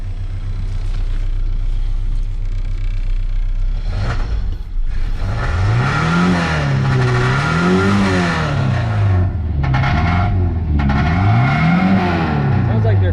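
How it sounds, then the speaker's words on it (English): A Ford Ranger pickup truck engine revs hard several times, each surge climbing and dropping back, loud and close, with some voices briefly underneath. "I'm gonna rev it."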